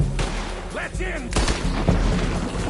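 Gunfire in a Red Dead Redemption 2 shootout in a town, several loud booming shots in quick succession over a busy game background with shouting voices.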